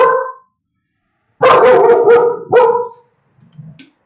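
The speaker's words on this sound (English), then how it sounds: "the dog is barking crazy today." A dog barks outside, loud and close: one bark, a pause, then a quick burst of several sharp barks and a final bark, ending in a soft whimper.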